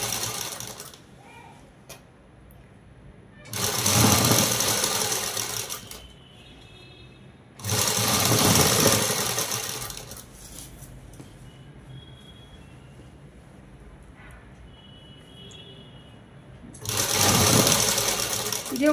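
A sewing machine stitches net lining onto the neck of a readymade dress in three separate bursts of rapid, close mechanical chatter, with quiet handling between runs.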